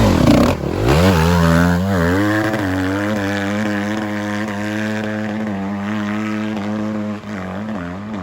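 A loud enduro motorcycle engine revs steadily and holds a high, buzzing pitch, rising and falling slightly, close by with no talking.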